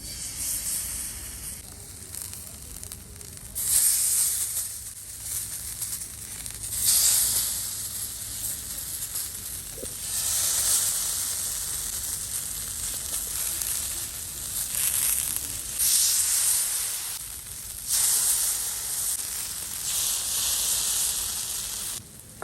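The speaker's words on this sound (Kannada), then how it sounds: "ತೆಂಗಿನೆಣ್ಣೆಯಲ್ಲಿ ಫ್ರೈ ಮಾಡುವ." Marinated fish fries in coconut oil over a traditional Mangalore-style wood-fired stove, with a steady, loud sizzle and hiss that swells and eases in waves throughout, and no talking.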